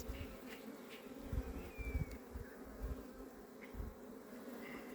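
Italian honey bees buzzing around an open hive during an inspection, a steady close drone with individual bees swelling louder as they pass near, no talking.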